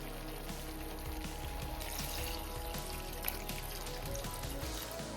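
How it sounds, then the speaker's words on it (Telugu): Water poured into a pot of chicken with coriander, fried onions and salt while making haleem, a steady continuous splashing pour with no talk. "తగినంత ఉప్పు వేసేసుకొని వాటర్ వేసుకుందాం."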